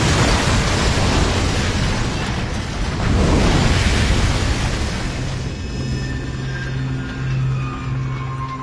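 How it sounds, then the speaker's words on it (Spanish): A jet airliner, Pan Am Flight 103, crashes into Lockerbie and erupts in a huge explosion, a loud, sustained roaring boom that swells, then settles into a lingering rumble with steady low tones and no voices. "Cuando se estrelló, provocó una explosión horrenda."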